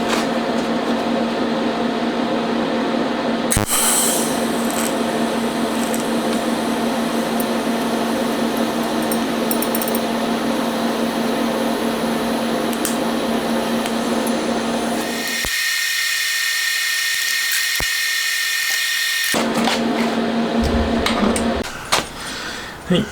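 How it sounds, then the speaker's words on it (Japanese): Welding on a part for a Honda Monkey engine being rebuilt as a 124.4cc four-cylinder: a steady electric buzz and hiss with a low hum runs close and loud throughout, briefly thinning near the end. "じゃあこれを溶接してしまいます"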